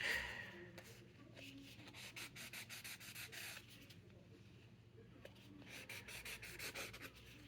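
Small hand sander rubbing down the paper edges on a handmade card, making close, soft, rhythmic scratchy strokes in two quiet bursts with a short pause between them.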